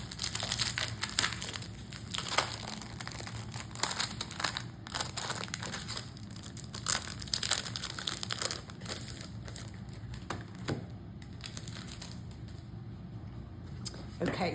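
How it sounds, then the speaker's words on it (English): Plastic packaging around a Fruits and Floral half-sheet planner cover and divider set crinkles and crackles up close, a steady stream of sharp crunchy rustles with occasional louder crushes running through the whole stretch. "sorry for all the plastic noise there"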